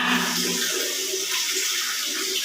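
Water pours steadily from an opened tap, a close, continuous hissing splash with no pauses and no voices.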